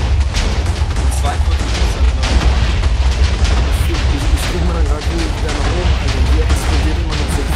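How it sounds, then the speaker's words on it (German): Heavy booming blasts and rumbling gunfire in Minecraft fill the clip, continuous and loud, with voices mixed in under the din. "Es ist die Luft explodiert, hast du es mitgekriegt?"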